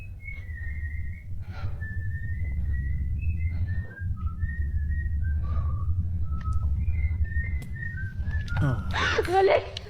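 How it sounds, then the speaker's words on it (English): A person whistles a wavering, warbling tune of short sliding notes over a steady low background hum, with a sharper burst of noise near the end. "whistling."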